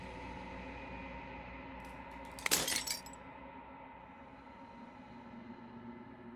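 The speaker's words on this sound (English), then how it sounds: "As the final fragment of glass shatters, you see yourself with newfound clarity" Glass fragments shattering in Slay the Princess: a single bright, brief crash of breaking glass with tinkling debris rises out of a quiet, sustained musical drone, then fades back into it.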